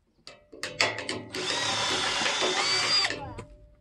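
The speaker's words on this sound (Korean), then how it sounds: "먼저 드릴로 구멍을 뚫고요." A power drill boring holes into steel plate while building an outdoor picnic table: a few short bursts as the bit starts, then a steady loud whine for about two seconds that winds down, with no talking.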